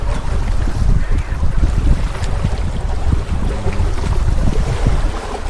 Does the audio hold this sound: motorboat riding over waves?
yes